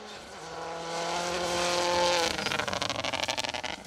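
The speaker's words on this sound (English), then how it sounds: "Subaru Impreza." A Subaru Impreza rally car on a 4WD gravel stage at the Plains Rally builds from a distant engine roar to a loud, close pass, then breaks into rapid, choppy bursts as it goes away.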